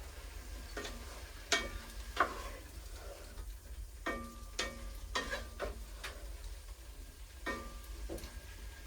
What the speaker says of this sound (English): hamburger and the mushrooms and the green pepper and the onions are all cooking